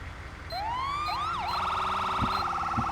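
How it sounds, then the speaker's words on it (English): Police car sirens inside a FiveM GTA V server game wail and yelp loudly and up close, the pitch sweeping up and then switching to a rapid warbling pattern, with no one speaking. "As you see, there's sirens"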